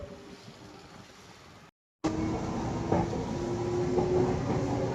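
Metro train running between stations, a steady rumble with rail clatter and a rising whine, briefly cut to silence near the two-second mark before returning louder and closer.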